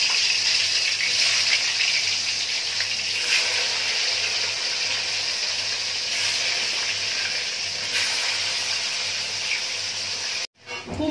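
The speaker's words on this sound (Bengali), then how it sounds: "বেগুন ভাজা হয়ে গেছে, এবার কুমড়োটা আর আলুটা ভেজে নিচ্ছি।" Pumpkin and potato pieces fry in a pan for Laxmi puja cooking with a continuous, close, bright sizzle that swells slightly at moments and then cuts off abruptly near the end.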